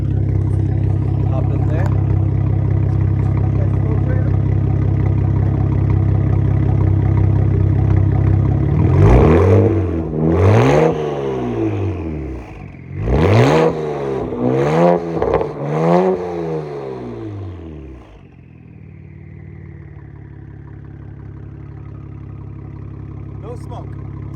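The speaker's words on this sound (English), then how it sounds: "Now we're gonna give it a nice little rev so you guys can see." A BMW N54 twin-turbo engine, its turbos fixed for smoking, idles then revs in several rising and falling bursts before settling back to idle, close and loud, with someone speaking briefly.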